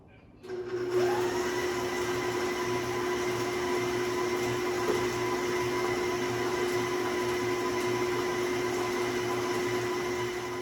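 Stand mixer motor running steadily at close range in a home kitchen while meatloaf mix is prepared, a constant drone with a strong steady hum that starts about a second in and holds unchanged to the end.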